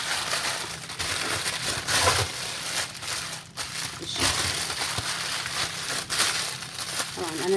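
A plastic bag holding homemade fesikh, a salted fish, crinkles and crackles steadily as it is rolled up to press out the air, close and continuous.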